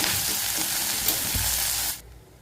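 Continuous sizzling of food frying in a pan, with a few scraping stirs, close and steady, cutting off abruptly near the end.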